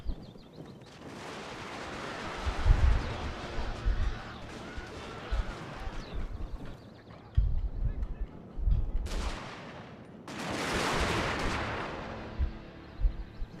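Musket volleys crackle in a Total War: Shogun 2 battle as fusilier lines fire on katana troops, with bursts of rolling gunfire rising and falling over a constant battlefield din, and someone talking over the top.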